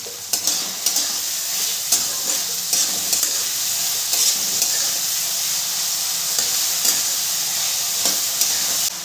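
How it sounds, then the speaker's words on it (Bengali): Peas and mixed vegetables fry in a hot pan with salt for chire pulao, a steady loud sizzle broken by regular scraping strokes of a spoon stirring through the mix. "মটরশুঁটিটা দিয়ে ভালো করে মিশিয়ে নেব"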